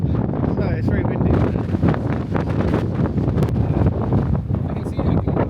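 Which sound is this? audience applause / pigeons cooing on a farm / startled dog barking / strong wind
strong wind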